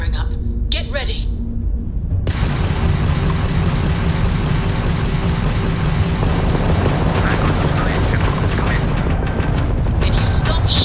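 Loud spaceship weapons fire and heavy explosions in the video game Starfield, a dense continuous barrage of booms and rumbling blasts, with game voices breaking through at the start and near the end.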